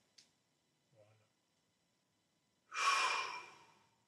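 A person exhales during an abdominal stretching exercise: after a couple of faint small breaths comes one long, breathy, audible exhale lasting over a second, close and clear against silence.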